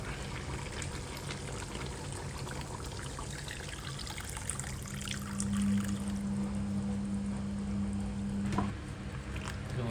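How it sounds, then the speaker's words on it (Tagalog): Coconut milk poured into chicken curry simmering in a pan, making a soft, continuous trickle that grows slightly fuller partway through over a low background hum. "lagay na natin tong gata"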